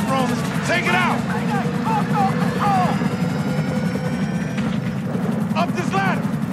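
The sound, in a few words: helicopter flying overhead in the video game GTA V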